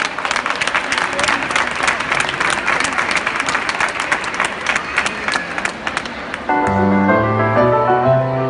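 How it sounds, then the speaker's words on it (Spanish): An audience applauds a singer with sustained, dense clapping and crowd noise, then music begins near the end as the applause carries on beneath it. "Un aplauso,"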